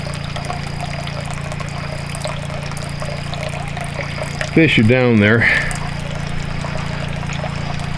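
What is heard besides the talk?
water trickling from buried pipe into tilapia pond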